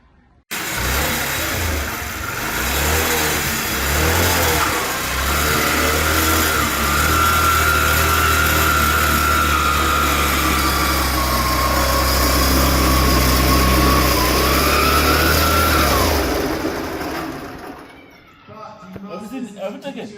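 A motorbike engine drives an agricultural grinder-shredder through a roller beneath its wheel, running at a steady, loud mid-pitched drone for about seventeen seconds before cutting out and leaving quieter background sounds.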